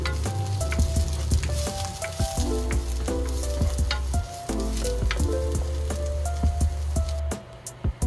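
Onion and ginger sautéing in a pan for ginataang gulay, a loud close sizzle with constant stirring scrapes and utensil knocks against the pan, easing off near the end.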